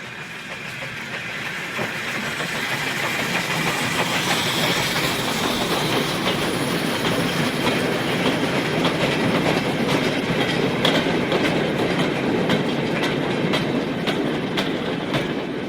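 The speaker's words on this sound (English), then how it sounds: "An afternoon mixed goods train is headed away from Loughborough." Steam locomotive 45596 Bahamas hauls an afternoon mixed goods train away from Loughborough, a steady rolling rumble of wagons with clickety-clack wheel beats and occasional squeals, building slightly and staying loud and close throughout.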